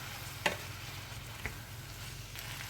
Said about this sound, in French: Et j'ajoute 270 g de boulgour. Et je viens mélanger.